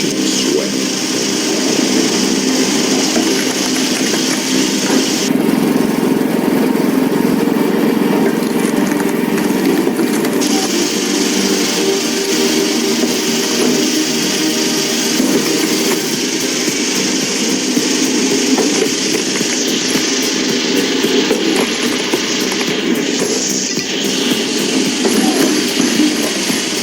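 A commercial firewood processing machine at a logging site runs steadily for the whole stretch, its loud mid-pitched engine drone broken by shifts in load as heavy, knotty logs are split, with no talk over it.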